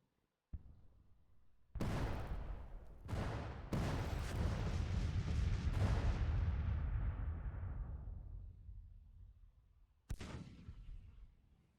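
Artillery fire in the Civil War strategy game Grand Tactician: a sharp onset, then a sustained heavy rumbling barrage of booms that slowly fades, with another loud blast near the end.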